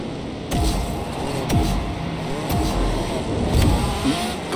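A racing car engine in the Disney Speedstorm kart racing game drones steadily under game music, with repeated sweeping pitch shifts as the car accelerates and turns.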